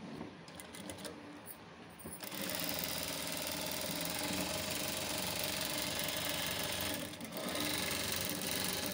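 A sewing machine runs steadily while stitching around a garment's neckline, a close, even mechanical whir that begins after about two seconds of quieter handling and continues with a brief slowdown near the end.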